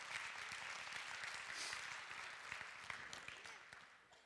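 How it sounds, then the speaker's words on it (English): A church congregation claps together, a dense, steady patter of many hands that slowly fades, fairly faint and distant in the room. "Yeah, that's something to clap about."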